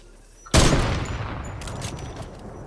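A loud, close gunshot from a sniper rifle in the Fortnite video game bursts out abruptly and rings into a long decaying tail, with fainter game noise after it.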